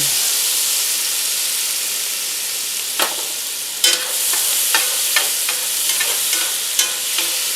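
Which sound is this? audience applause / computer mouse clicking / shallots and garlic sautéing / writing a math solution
shallots and garlic sautéing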